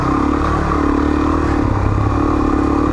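A heavy motorcycle ridden along the sandy Starcke Wakooka trail on Cape York, its engine droning loud and continuous with rattling clatter from the ride.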